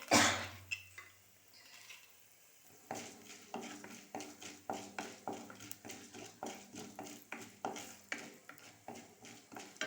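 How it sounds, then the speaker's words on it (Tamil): Chutney ingredients crackle and hiss while roasting in oil in a pan, a steady frying sizzle broken by frequent clinks and scrapes of a spoon stirring against the metal. "இது நல்லா சலக்க வறுத்துக்கலாம்"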